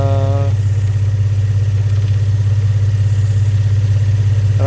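A 2003 Infiniti G35 engine runs close and loud, with a steady low rumble and a faint rhythmic unevenness that suits a misfire, alone without talk.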